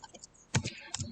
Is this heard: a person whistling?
no